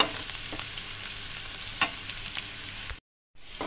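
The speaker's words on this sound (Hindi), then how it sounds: "डालकर लाइट हम फ्राई करेंगे, क्रंचीनेस बाकी रखेंगे इसका अनियन का" Onions lightly fry in a pan for street-style pav bhaji, with a continuous moderate sizzle and occasional stirring clicks, briefly cut off near the end before resuming.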